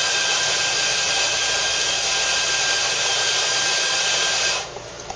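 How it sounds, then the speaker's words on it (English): A coffee grinder set fine runs continuously, grinding about 18 grams of beans for a double ristretto, a loud steady whir that cuts off near the end. "I've set this grinder to a finer setting, and I'm going to dose the coffee a little bit higher"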